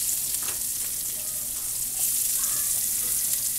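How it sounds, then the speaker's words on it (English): Onions sizzling in hot olive oil in a pan, a continuous crackling fry with a few soft stirring scrapes, close and steady with no talk over it. "All I'm going to do is add a little bit of olive oil. I'm going to add the onions."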